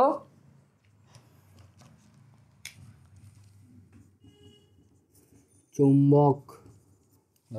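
Pen writing on paper during a physics lecture makes soft, intermittent scratchy strokes in the background, close and faint, broken up by a teacher's speech.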